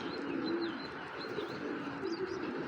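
Racing pigeons of mixed colours, including grizzle and black checker birds, coo in soft repeated low phrases at close range, with faint chirps over a steady background and no talk.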